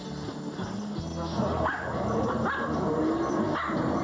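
Several small dogs bark and yip excitedly at close range, sharp repeated barks and whimpers rising over a steady background of household noise.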